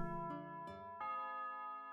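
A school bell chimes in the visual novel game A Sky Full of Stars, a clear electronic ding-dong of a few bright tones that ring out and sustain at steady volume, with no voices.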